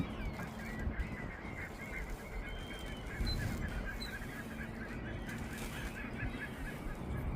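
Ducks honk repeatedly in a noisy flock, a steady chorus of calls over outdoor background noise.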